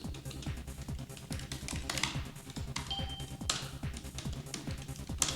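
Typing on a computer keyboard while working in an IBM i (OS/400) terminal, a quick irregular run of close clicky keystrokes with a few louder taps, continuing throughout.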